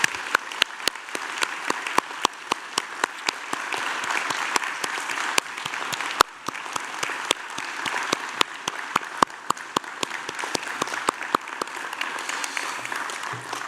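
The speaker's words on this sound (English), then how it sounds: "ask all of our guests to join me in applauding the wonderful achievement of these" A large audience at a university graduation ceremony claps steadily and continuously, loud and sustained, with no voices over the applause.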